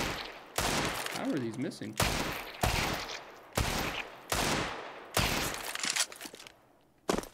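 Bursts of gunfire from Counter-Strike, several sharp sustained volleys of automatic shots in a rhythmic stop-start pattern, loud and close, with someone briefly talking between them.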